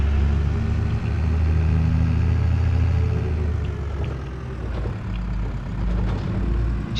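A vehicle engine in Farming Simulator 22 drones steadily throughout, a low mechanical hum holding near idle with slight rises and dips, no voices present.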